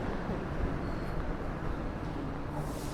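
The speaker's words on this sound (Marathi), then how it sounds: "22953 Mumbai central Ahmedabad junction superfast. तर प्लॅटफॉर्म नंबर 2वर आपली ट्रेन लागलेली आहे" Mumbai Central–Ahmedabad superfast train standing at a station platform, with a steady dense rumble and station hubbub running throughout, no distinct horn or clear wheel clatter.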